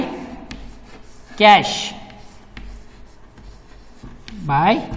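Pen scratches by hand on paper while an accounting entry is written, coming in two short, close bursts separated by quieter pauses.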